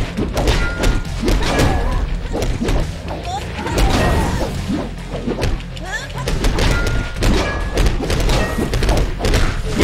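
Kicking impacts in the video game ChronoBlade, repeated heavy thuds and whacks landing in quick succession over busy game music and effects, loud and close.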